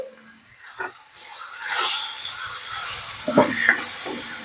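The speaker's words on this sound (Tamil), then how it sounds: "அடுத்தது பிரானை லைட்டாக வதக்கிட்டு மஞ்சத்தூள், உப்பு, மிளகாத்தூள்." Prawns sauté in oil with turmeric, salt and chilli powder, crackling and sizzling close by while a spoon scrapes and stirs the pan.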